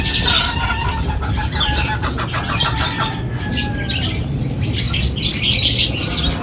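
Racing pigeons arrive at a loft in Concepcion, Tarlac, with wing flaps and scattered squawks and chirps over steady background noise, close and fairly loud.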